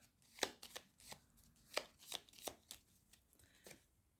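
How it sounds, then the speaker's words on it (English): Scrabble tiles being shuffled by hand, giving a quiet series of crisp clacking rattles in uneven bursts, close and with no talk. "All right, shuffle again."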